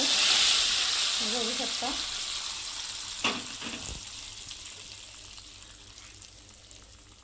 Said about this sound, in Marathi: आता याच्यामध्ये तडका द्यायचा आहे